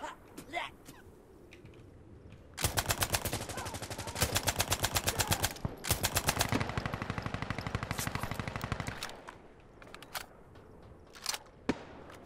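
Rapid automatic gunfire in the video game Insurgency Sandstorm, long loud bursts of closely spaced shots broken by brief pauses, with a few scattered single shots before and after.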